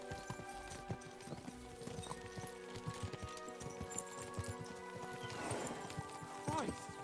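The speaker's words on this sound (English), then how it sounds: "We should spur the horses on." Horses gallop in the video game Kingdom Come: Deliverance, rapid clip-clopping hooves in a steady rhythm at mid distance, with a neigh near the end and voices talking over it.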